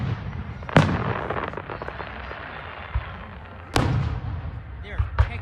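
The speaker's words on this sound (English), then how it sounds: "Roosevelt, Utah fireworks." Fireworks in Roosevelt, Utah burst in sharp booming reports, two big blasts a few seconds apart and smaller pops after them, with crackling rumble in between and distant voices in the background.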